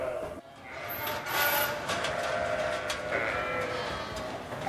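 Basco-Béarnaise dairy sheep from a mountain flock bleating amid a dense, continuous wash of background noise, calls overlapping and moderately distant.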